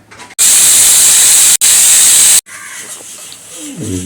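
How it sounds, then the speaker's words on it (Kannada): Loud, sharp steam whistle from a pressure cooker cooking vegetable pulao, two bursts of hissing back to back with a brief gap, then quieter kitchen sounds follow. "ವಿಸಿಲ್ 2ನೇ ವಿಸಿಲ್ ಆಗ್ತಾ ಉಂಟು"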